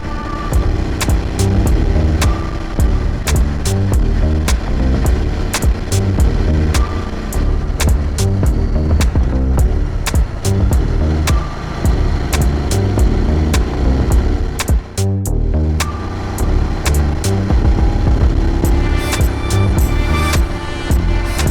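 A car drives along a bumpy dirt track in Morocco, its loud engine rumble continuous and close. Frequent rattles and knocks from the rough ground run through it, with a brief dip partway through.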